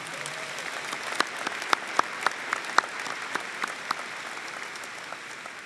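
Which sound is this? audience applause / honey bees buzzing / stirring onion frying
audience applause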